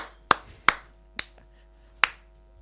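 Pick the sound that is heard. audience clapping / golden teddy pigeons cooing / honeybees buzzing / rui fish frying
audience clapping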